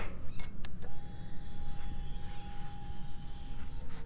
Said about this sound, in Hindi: ये जो साउंड है ये FI जो मोटर है वो ऑन होता है उसका साउंड है ये।